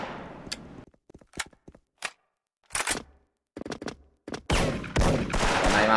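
Gunfire in the online shooter Special Force during an esports tournament match: bursts of rapid shots, several sharp separate reports and dense clattering volleys, loud and close, with quiet gaps between them.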